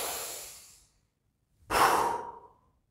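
Deep breathing of the kind practised in kung fu breath control: a long exhale fades to silence, then after a pause a strong, close breath swells and trails off, with no voice.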